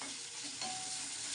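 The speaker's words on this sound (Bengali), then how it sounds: "চিকেনটা আমার 5-7 মিনিট ভাজা হয়ে গেছে ছোটো ছোটো করে" Small chicken pieces fry in a pan with a steady, close hiss of oil, stirred now and then, alone with no talking.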